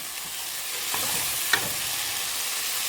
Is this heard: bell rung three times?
no